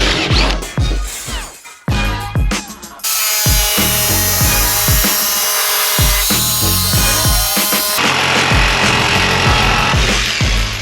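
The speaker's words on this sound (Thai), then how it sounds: "เพราะว่าผมจะใช้จิ๊กซอว์ตัดจากด้านนอก" A jigsaw buzzes loudly in long continuous runs, cutting through a thin metal van panel from the outside with a harsh rattling whine, broken by short pauses and clunks.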